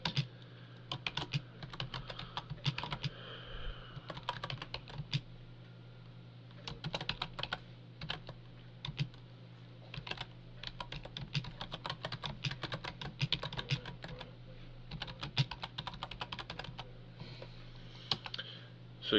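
Computer keyboard keys tapped in quick irregular bursts, typing a whisper command into a Fantasy Grounds 2 chat box, close and crisp over a steady low hum with brief pauses between runs.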